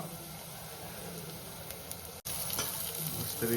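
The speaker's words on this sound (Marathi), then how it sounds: "आता आपण टोमॅटो टाकूया असो कांदा तुम्ही भाजून घ्या" Onion and tomato fry with chicken in a pan, giving a loud, continuous close sizzle with stirring scrapes, briefly cut off for a moment before resuming.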